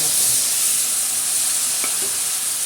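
Water poured into a frying masala of red chilli powder and salt for stuffed bitter gourd curry bursts into a loud, continuous sizzle that fills the whole clip, with no voices.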